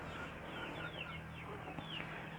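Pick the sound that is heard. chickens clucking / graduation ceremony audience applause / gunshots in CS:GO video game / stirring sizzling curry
chickens clucking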